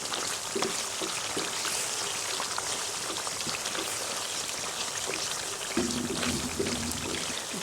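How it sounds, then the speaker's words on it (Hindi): Mutton korma sizzling and frying over high heat in a pot, a dense, continuous close crackle like steady rain with occasional low clatters, loud and unbroken throughout. "आंच तेज कर दी मैंने, कौरमे को भून डाला।"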